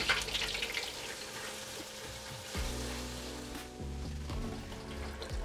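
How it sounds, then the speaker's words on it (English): Chicken sandwich fillets deep frying in a fryer preheated to 350 degrees, a steady dense hiss and crackle of hot oil bubbling close by, continuous with slight surges and no talk. "we're gonna drop this in the fryer and we're gonna let it cook for about 7 to 10 minutes"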